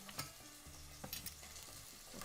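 Chicken pieces from the butcher browning in a hot frying pan, a steady low sizzle with a few sharper crackles and spatters, fairly quiet and continuous with no talking.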